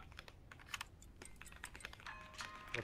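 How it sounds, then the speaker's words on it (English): Rapid keyboard typing from a scary co-op spot-the-difference video game set on a train, a steady patter of close key clicks running through the whole stretch without talk. "Is somebody typing?"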